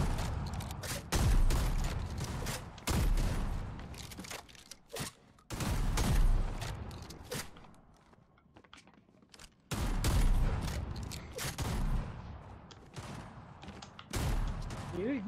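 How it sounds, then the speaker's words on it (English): Fortnite gunfire rattles in loud, dense bursts with booming hits, broken by short lulls, in a steady game soundscape. "I'm gonna shoot things."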